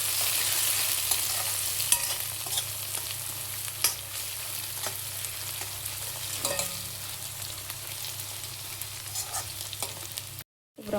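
Soaked cashews fry in hot oil in a pan, with a continuous sizzle and occasional light scraping as they are stirred, lasting nearly the whole stretch before a brief cutoff near the end.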